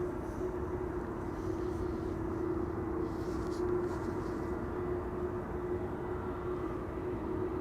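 A Maersk Cargo Airbus A330-200 arriving at Amsterdam Schiphol from Doha, a continuous loud jet roar with a steady humming tone underneath, holding level throughout with no voices.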